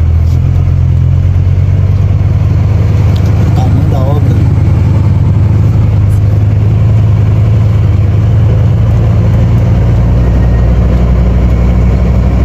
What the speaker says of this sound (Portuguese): Senti o caminhão agarrando aqui.